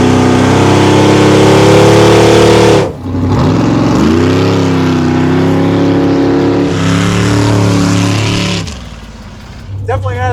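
A 1957 Chevy hot rod engine runs loud and close, holding a steady rumbling idle and then revving up and easing off, cutting out briefly near the end before starting again.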